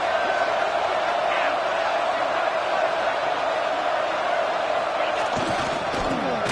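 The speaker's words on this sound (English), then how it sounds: "the crowd coming to life here trying to help this defense down in the red zone" Crowd at an Ohio State college football game, a steady, full roar of the stadium crowd that never lets up, with a commentator talking over it.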